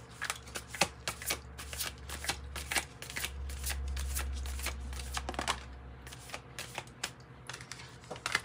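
A Moonology Manifestation oracle card deck is shuffled by hand in repeated quick riffling bursts with short pauses, close and fairly quiet, with no talking over it.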